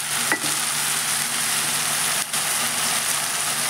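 Fried prawns sizzle loudly in hot oil in a pan, a steady dense crackle that holds evenly throughout, with a couple of brief clinks of stirring and no talking.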